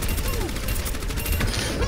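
Orisa's heavy gun in the game Overwatch fires a rapid, continuous stream of shots, a dense crackling barrage that runs without pause for about two seconds at moderate loudness.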